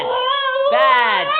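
A Husky puppy cries in a close, loud, drawn-out whimpering whine with a rising second note, heard on its own.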